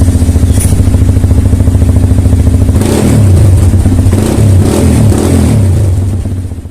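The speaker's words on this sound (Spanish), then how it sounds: "muestra cómo suena el escape nuevo" A Yamaha XTZ 250 motorcycle with a new aftermarket exhaust idles with a loud, close, steady thumping pulse, then revs up around the middle and settles back, the throb filling the whole stretch.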